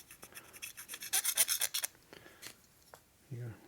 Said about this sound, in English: So this all has to be hand scraped off.